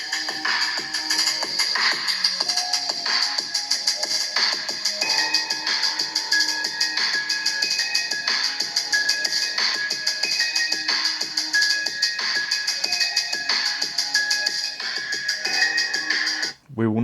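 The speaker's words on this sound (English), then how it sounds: "So I'll play a bit through the phone speaker." Music played at maximum volume through a phone's built-in speaker, sounding thin and tinny with bright, ringing tones and a steady beat, continuous and loud until it cuts off abruptly at the end.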